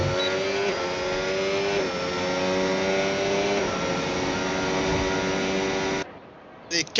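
A Formula E race car in qualifying in Canada, a British team's entry, accelerates hard down a straight with a loud, steady electric whine that climbs in pitch for about six seconds, then cuts off abruptly.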